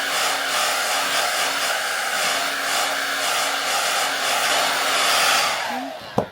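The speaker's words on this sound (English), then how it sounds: "I'm going to go in with my blow dryer on cool setting" A hair dryer on cool setting runs steadily with a constant whooshing airflow and faint motor hum, then clicks off abruptly near the end.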